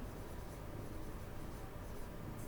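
Pen or marker writing on a surface, a steady faint scratching that runs continuously under a low, even background hiss.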